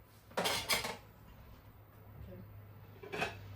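Dishes and cutlery clatter in a few quick bursts, a pair of clinks close together, then a quiet stretch, then another clatter.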